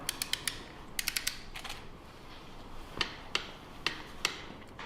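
A torque wrench tightening a car's oil drain plug makes quiet, sharp ratcheting clicks in short clusters of two to four, separated by brief pauses against a low background hum.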